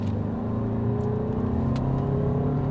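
A 2024 Lexus RX 450h+ plug-in hybrid SUV pulls away hard in sport mode, a steady engine and motor whir rising slightly in tone, heard from inside the cabin without talk.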